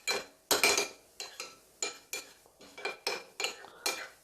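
Chicken shami kabab mixture being stirred with cumin and salt, a spoon scraping and clinking against a metal bowl in about a dozen quick, close strokes at an irregular rhythm, with no talking.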